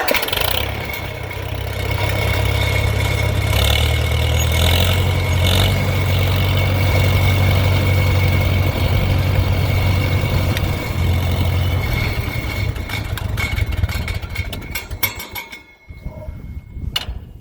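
A 1950 Farmall M tractor engine idles steadily and loudly at close range, a continuous low rumble with a faint tapping beat that runs for about fifteen seconds, then cuts out near the end.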